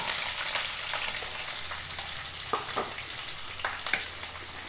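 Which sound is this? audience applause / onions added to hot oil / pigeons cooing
onions added to hot oil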